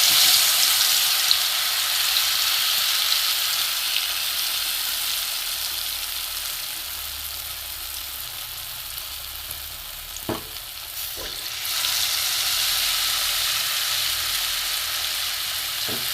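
Pea fritters coated in gram flour batter fry in hot oil, a steady close sizzle and bubbling that runs throughout with a couple of brief clicks near the middle, and no one talking.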